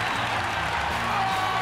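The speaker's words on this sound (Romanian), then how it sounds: "Aplauze, vă rog!" An audience at a hairstyling contest claps in a steady, dense wash of applause that stays even and fairly close for its whole short length.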